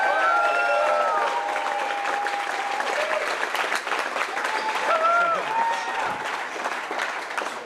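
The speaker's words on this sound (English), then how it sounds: "Do you want to give him a round of applause?" A crowd at a startup pitch night applauds a contestant, thick clapping mixed with scattered whoops and murmured voices, fading gently toward the end.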